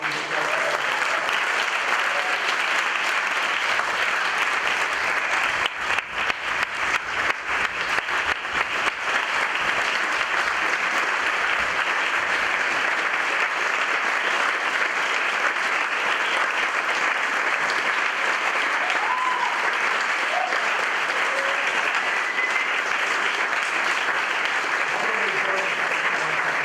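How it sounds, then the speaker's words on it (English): An audience applauds at the closing of the GapSummit 2018 conference, a dense, steady roar of many hands clapping that holds evenly for nearly half a minute with no break. "So please, a round of applause."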